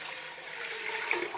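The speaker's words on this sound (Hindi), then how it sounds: "पानी गया जी हमारा, इसमें" Water pouring into a cooking pot on a flame for moong and masoor dal, a steady, close rushing splash running without a break and without voices.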